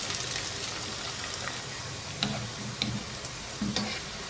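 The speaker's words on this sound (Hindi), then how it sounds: "अब इसमें 3 से 4 साबुत सब्ज़ मिर्चें शामिल कर देंगे और इनको प्याज के साथ 1-2 मिनट" Whole green chillies and onions fry in hot oil, giving a steady, dense sizzle throughout with a few faint clicks and taps of stirring. The frying is close and continuous, and no voices are heard.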